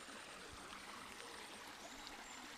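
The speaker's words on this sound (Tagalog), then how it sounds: "At ito nga ay ilog." A mountain river in Quezon flows steadily, a soft continuous rushing and trickling wash heard faintly from a distance with no voices.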